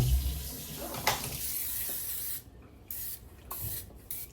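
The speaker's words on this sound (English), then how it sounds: "you're gonna grease the loaf pan that you're gonna use" Cooking spray coats an 11 by 22 loaf pan in a home kitchen, heard as a hissing spray burst up front followed by a quieter second spritz, close to the mic.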